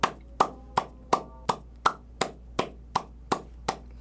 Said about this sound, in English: Let's give a round of applause for House of Dragons